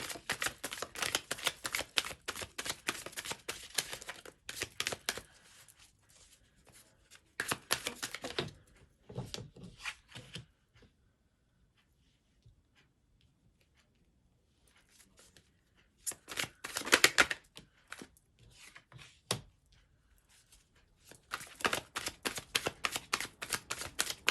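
Tarot cards being shuffled and drawn, rapid crisp riffling and flicking in close bursts separated by near-silent pauses, quiet, with no talk.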